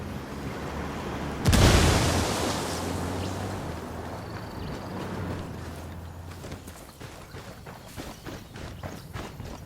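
A frag grenade blast in Ghost Recon Wildlands erupts suddenly and loud, with a booming low rumble that slowly fades, followed by scattered footsteps and movement sounds.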